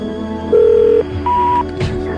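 A telephone keypad sounds while a number is being dialed: two separate steady electronic beeps, close and loud, each lasting about half a second, with a short gap between them.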